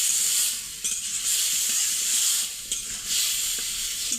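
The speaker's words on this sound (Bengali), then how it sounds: "মশলাটা কষানো হলে পরে আমরা ডুমুরটা দিয়ে, তখন আমরা গোটা ডুমুরটি দিয়ে দিই।" Whole boiled figs dropped into fried spice masala hiss and sizzle loudly, bursts of steamy crackle swelling and easing in a few waves, close and without talk.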